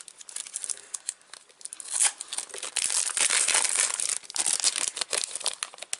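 A plastic packet holding succulent plants is torn and opened by hand, producing loud, close crinkling and crackling with sharp tearing bursts that come in uneven waves, with no talking.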